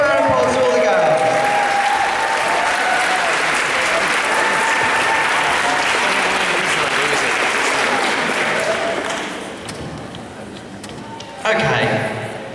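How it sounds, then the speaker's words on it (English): An audience at a pole dancing championship applauds loudly, dense sustained clapping that carries for several seconds and then tapers off, with a brief renewed burst near the end. "Big round of applause to all the girls."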